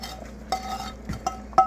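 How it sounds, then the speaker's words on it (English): Already-cooked hamburger meat goes into a pot of hamburger vegetable soup, marked by a few close, sharp utensil clinks against the pot and soft shuffling between them. "I'm going to go ahead and put the hamburger in here"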